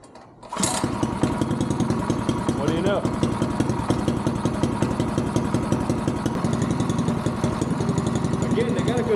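A custom adult-size go-kart engine starts and settles into a steady, even idle through a small muffler, moderately loud and close, with people talking over it.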